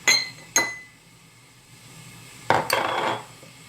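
A teaspoon of cumin is stirred into a little cold water. A spoon clinks sharply against a glass container twice, then after a quiet pause comes a brief burst of clinking and swirling. No one speaks.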